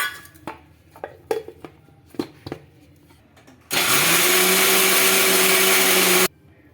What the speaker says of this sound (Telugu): ఒక మిక్సీ జార్ అయితే తీసుకొని కట్ చేసుకున్న కొబ్బరి ముక్కలు అయితే ఇందులోకి అయితే వేసుకోవాలండి వేసుకొని గ్రైండ్ చేసుకోవాలి